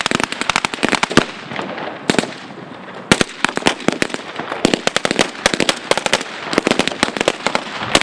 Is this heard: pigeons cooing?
no